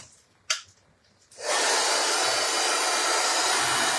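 After a small click, a heat gun or dryer switches on and blows hot air steadily and loudly into the interior of a decoupaged nesting box, with a constant close whoosh.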